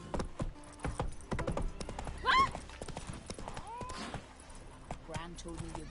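Horse hooves clip-clopping in The Witcher 3, a run of sharp, fairly close strikes spread through the stretch, mixed with game voices, a short whinny and other ambient effects.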